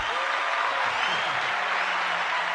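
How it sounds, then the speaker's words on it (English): Studio audience applause during an interview show, a short, steady wash of clapping with voices talking over it. "We got applause."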